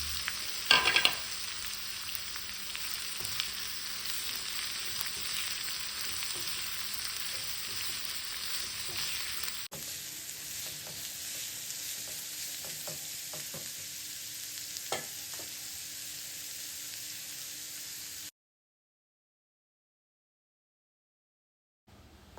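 Thinly sliced onions (three medium) sautéing in a pan for mutton kurma, a constant close sizzle with occasional stirring clicks, ending abruptly in silence.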